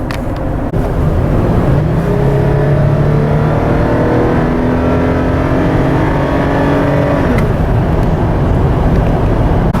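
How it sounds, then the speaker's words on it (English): A 2017 Toyota 4Runner fitted with a K&N cold air intake accelerates, heard from inside the cabin with windows up: a loud, steady engine drone rising in pitch through the gears for several seconds, with a brief shift partway through. "So first I'm gonna do an acceleration inside the car with the windows up"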